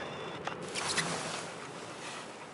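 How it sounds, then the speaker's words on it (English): A Mark 7 AquaJet XT car wash runs its high pressure rinse, a steady loud hiss of spraying water drumming over a car with no voices. "That's gonna do the high pressure rinse."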